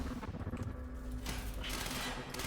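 Burst-fire gun in the game Quantum Break, a rapid clattering volley of shots followed by a short gap and further sharp reports, close and moderately loud with no talk.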